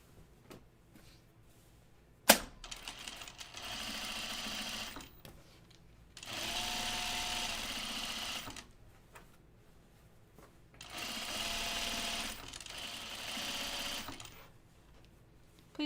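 A sewing machine stitches a top in three steady runs of fast, whirring clatter, each a few seconds long with quiet gaps between, preceded by a single sharp click.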